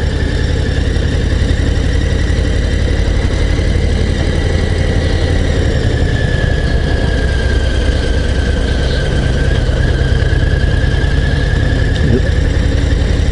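A BMW RT motorcycle engine holding around 1200 rpm while riding mountain bends, a loud, steady, even drone with a constant low hum that continues unbroken, with no talking.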